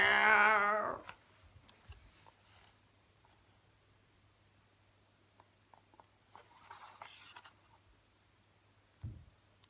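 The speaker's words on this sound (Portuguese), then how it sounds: "do seu focinho saiu um baixinho" A cat's soft meow from a Portuguese audiobook about forest animals, loud and brief at the very start, followed by near silence with faint rustles and a small thump at the end.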